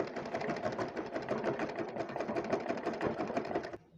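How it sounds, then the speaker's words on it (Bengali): A sewing machine runs steadily, stitching fabric for sharara pants with a continuous fast rhythmic whir at moderate level, then stops abruptly at the end; no talking. "এখন এটাকে গিট্টো দিয়ে তারপর আমি সেলাই করে নিচ্ছি"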